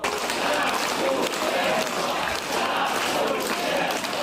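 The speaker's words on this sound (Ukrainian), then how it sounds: "Їх виступи глядачі зустріли оваціями" An audience gives performers an ovation: a dense, steady wash of clapping from a crowd that holds at an even loudness throughout, with a murmur of voices mixed in.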